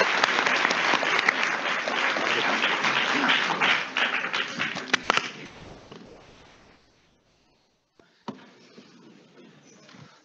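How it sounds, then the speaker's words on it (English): An audience at a university debate between a Christian union and a philosophy society claps in a dense burst that fades away, leaving near silence broken by a few last isolated claps. "Bit of a round of applause for Edwin."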